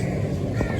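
A crow caws once, briefly, over steady background noise on a Karachi street in the morning.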